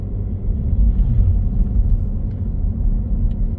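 A car pulls away after slowing for a raised pedestrian crossing, its engine a steady low rumble heard from inside the cabin, continuous and fairly loud with no talk.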